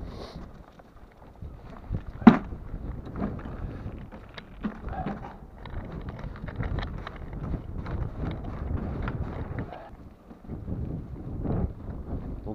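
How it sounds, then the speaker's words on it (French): Strong wind gusting across the microphone on the Carnot sea dike, a steady broadband rush with buffeting and one sharp knock early on, a little distant talk beneath. "Donc il y a pas mal de vent quand même."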